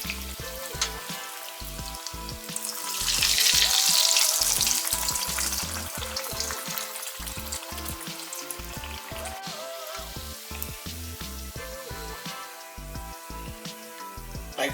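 Samosas fry in hot oil with a dense, loud sizzle that swells into a bright hiss for a few seconds, then settles into a steady bubbling crackle, with no voice over it.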